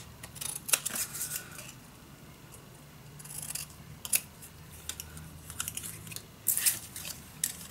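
Scissors cut out paper images for a steampunk Christmas craft project, giving scattered short snipping bursts with quiet gaps between them and no talking.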